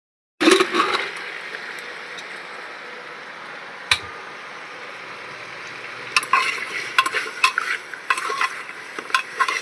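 Meat pieces roasting and being stirred in hot oil with ginger-garlic masala, a continuous sizzle with scraping utensil strokes and clinks against the pot, louder stirring toward the end.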